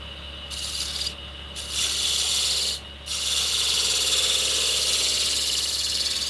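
A hand tool takes light passes across spalted hickory to clean up tear-out, lifting very fine shavings. Close scraping strokes run in a few bursts separated by short pauses.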